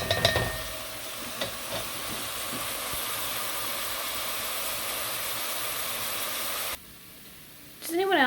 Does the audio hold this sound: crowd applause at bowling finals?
no